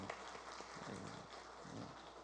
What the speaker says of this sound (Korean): 우리 좌우에 계신 성도님들 한번 바라보면서 우리 격려 박수하겠습니다